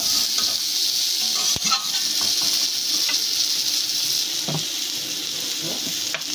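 Hilsa fish masala with green chillies stirred and fried in a pan, a loud steady sizzle with repeated spatula scrapes and stirs close by, no voices.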